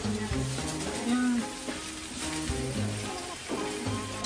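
Beef for a Sonoran discada sizzles steadily in a frying pan, a dense crackling hiss that continues throughout with occasional stirring clatter.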